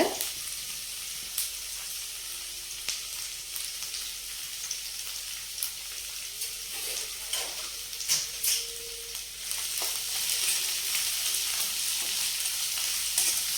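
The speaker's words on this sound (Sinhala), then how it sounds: "පොල් තෙල් ටික රත් වෙනකොට අපි කපාගත්ත බී ලුණු ටික මම මේකට එකතු කරගන්නවා. බී ලුණු, කරපිංච, නයි මිරිස් ටික." Shallots, curry leaves and chili hit hot coconut oil in a pan, giving a steady, close hissing sizzle with crackles and stirring clatter that grows louder toward the end.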